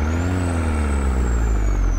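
Kenworth T660 double-trailer truck carrying a heavy load up a steep grade, engine droning loud and close with a steady deep roar and a high whine above it.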